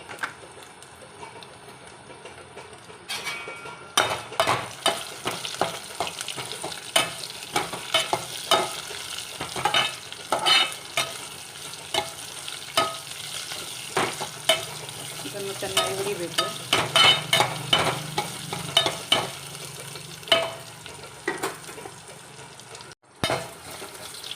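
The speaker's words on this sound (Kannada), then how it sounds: "ಲವಂಗ ಹಾಗೆ ಪುಲಾವ್ ಎಲೆ ಏಲಕ್ಕಿ ಕಸಕಸೆ ಸೊಂಪು ಈಗ ಹಾಕ್ತಾಯಿದ್ದೀನಿ" Cloves, bay leaf, cardamom, poppy seeds and fennel sizzle in hot oil for a mushroom gravy, a steady close frying hiss broken by repeated scraping strokes of a spatula against the pan, with a sharp clatter near the end.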